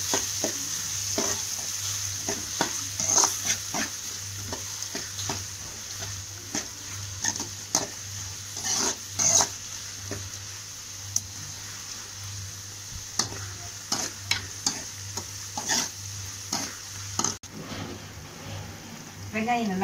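Two large onions sauté in a pan with a lively sizzle and frequent stirring clinks and scrapes, a steady hum below; someone speaks over the cooking.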